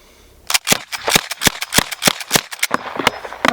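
A Colt Lightning revolver fires in a rapid string of about a dozen loud, sharp shots, close by and evenly spaced in quick succession.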